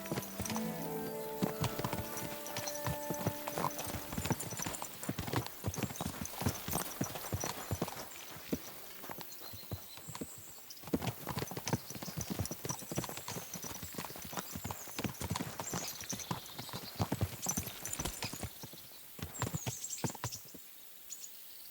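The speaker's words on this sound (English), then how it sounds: "Easy, good horse." A horse's hooves clip-clop in the medieval video game Kingdom Come: Deliverance II, with steady, close, rhythmic footfalls for the whole stretch and a brief whinny near the start.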